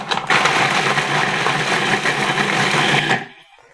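Food processor running continuously for about three seconds as it grinds Oreo cookies into a fine powder for a crust, a loud, close, steady whir that cuts off at the end.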